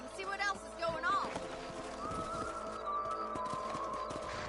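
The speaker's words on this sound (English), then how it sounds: "Let's get back on the horses and see what else is going on." Horses gallop across open country in Red Dead Redemption, hooves pounding in a quick uneven rhythm at moderate volume, with a brief whinny and game dialogue or music layered over it.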